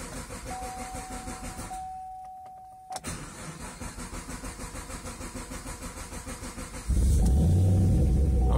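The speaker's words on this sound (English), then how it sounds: "the number of times it has to crank over is alarming enough as it is" A Chevrolet Camaro with a faulty tachometer cranks over repeatedly with a steady starter rhythm, pauses briefly, then catches and starts into a loud, rough idle near the end.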